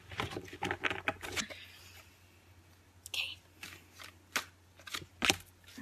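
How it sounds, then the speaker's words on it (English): A deck of cards used for readings is shuffled close by: a rapid burst of riffling at first, then several separate crisp snaps and flutters spaced through the quieter stretch. "I'm going to shuffle this card deck again because it's a lot of energy"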